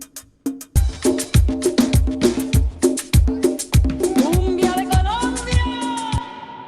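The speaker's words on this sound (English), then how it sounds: "The music is called cumbia." Basic cumbia drum beat, its steady, evenly spaced percussive hits repeating in a loping pattern with a plucked melodic line woven through, loud and close and heard alone.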